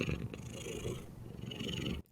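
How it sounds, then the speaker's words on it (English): Steady, close cat purr, a continuous low rumble lasting about two seconds before it cuts off abruptly. "You giving the people some purrs?"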